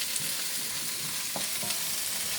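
Garlic and onion sauté in a hot pan, a steady close sizzle with faint stirring scrapes, without talk.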